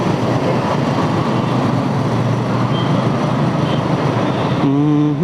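A metro train in India passes close by with a loud, steady rumble and rattle of rail cars, heard alone for several seconds before a tonal sound rises near the end.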